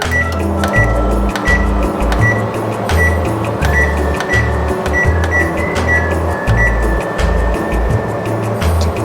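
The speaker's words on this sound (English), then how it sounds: "now we turn on the microwave and set it for around 5" A microwave oven hums steadily while heating cheesy instant ramen noodles, a continuous close drone with a pulsing low rumble and no talking.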